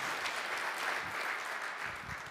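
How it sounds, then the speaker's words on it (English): Brief, fairly faint applause from the audience at a mayoral candidate forum, a steady wash of clapping that holds for a couple of seconds without a break. "Round of applause."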